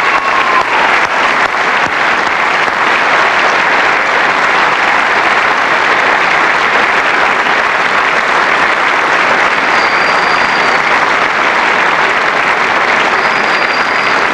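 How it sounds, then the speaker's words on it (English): A large crowd gives sustained applause as the 1996 All-Australian AFL team is presented at an awards ceremony, steady loud clapping filling the whole stretch with no break. "Give them a big round of applause."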